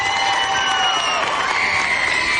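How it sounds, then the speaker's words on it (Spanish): The Sábado Gigante studio audience erupts for Shakira with loud, sustained cheering, whistles and shouts over clapping, a continuous roar filling the room. "Un gran aplauso para Shakira."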